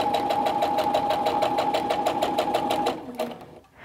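Sewing machine stitching fabric for a kids' face mask, a fast steady whirring chatter at close range that slows and stops near the end.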